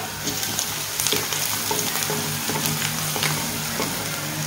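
Frying in a pan with turmeric for tomato moong dal makes a continuous close sizzle, with light irregular crackles and stirring scrapes over an even bed of hiss.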